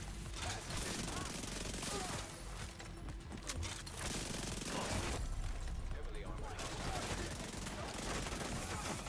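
Rapid sustained SMG gunfire in The Division 2 shooter game, continuous bursts of automatic fire with combat noise throughout, loud and dense for the whole stretch.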